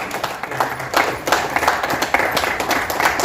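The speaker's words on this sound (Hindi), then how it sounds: "जोरदार ताली बजाएं" An audience at a Hyper Verse business meeting at a hotel in Raigarh breaks into loud applause, with rapid, overlapping hand claps that pulse unevenly and continue throughout.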